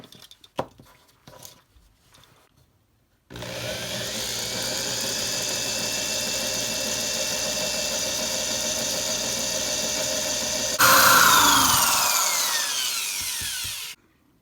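A power drill bores a pilot hole with a pilot hole bit during an Opel Speedster disassembly. After a few faint knocks, a steady whining drone runs for about seven seconds, jumps louder and higher near the end, then stops abruptly.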